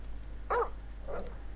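A dog in the video game GTA V gives a single clear bark followed by a softer second yip, fairly distant over a low steady hum.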